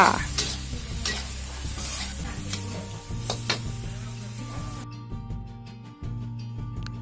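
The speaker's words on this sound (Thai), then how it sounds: "พอสุกแล้วเราก็ใส่ใบกะเพราลงไปเลยค่ะ" Pad kra pao stir-frying in a pan as holy basil leaves go in: loud continuous sizzling with scraping and clacking stirring strokes, no talking.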